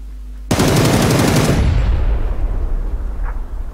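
Loud automatic gunfire in the PUBG battle royale game: a sudden, close rapid burst of shots that starts abruptly and trails into a rumbling echo that fades slowly.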